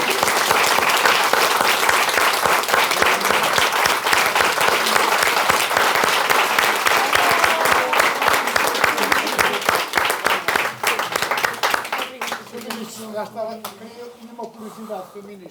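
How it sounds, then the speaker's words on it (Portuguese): Large audience breaking into loud, sustained applause at an event, dense clapping filling most of the stretch before thinning out as voices begin talking over the last claps. "uma salva de palmas e muito obrigado"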